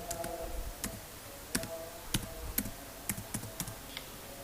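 Keys clacking on a computer keyboard while entering data in SPSS, a sparse series of sharp individual taps with uneven gaps, close and crisp against quiet room hiss, no voices.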